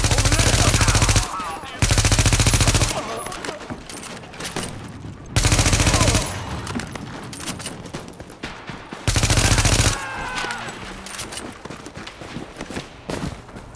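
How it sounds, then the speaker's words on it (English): Gunfire in a firefight from The Division, with loud sustained bursts of automatic weapon fire repeating in several blasts, interspersed with shuffling movement and quieter combat noise between them. "Fire on the mark! Engaging! Open fire!"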